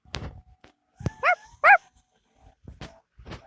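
Two short, yelping dog barks in quick succession from a dog in Minecraft, sounding synthetic, amid soft clicks and footsteps.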